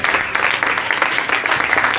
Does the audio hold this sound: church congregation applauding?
yes